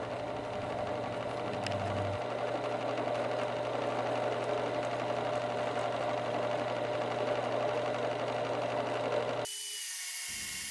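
A steady, whining drill or countersink bevels the drilled holes in a steel knife blank in a workshop, running continuously and close for about nine seconds before cutting off abruptly.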